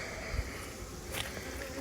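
Honey bees buzz around a feisty hive in a drone flooding yard outdoors, a soft continuous hum with a few louder passes close by and no talking.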